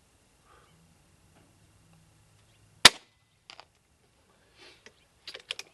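A single sharp, close crack from a BSA R12 XLX Pro .22 air rifle fired at a target 100 yards away, standing alone in near silence and followed by a few soft mechanical clicks.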